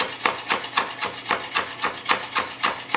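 Rolled basil leaves sliced into thin strips with a sharp knife on a board, a quick even series of crisp close chops, about four per second.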